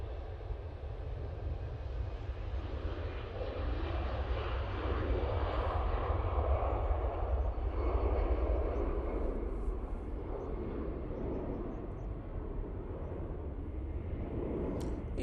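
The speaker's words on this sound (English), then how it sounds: "EasyJet now on the roll." An EasyJet airliner rolls for takeoff at Manchester Airport, its jet engines a deep, sustained roar that swells in the middle and then eases slightly, heard from a moderate distance with no talking.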